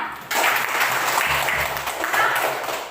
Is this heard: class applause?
yes